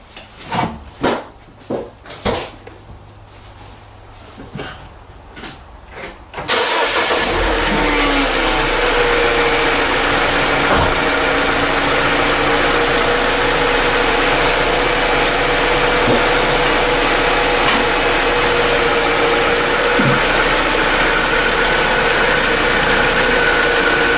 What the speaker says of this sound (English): So I'm just going to run the engine.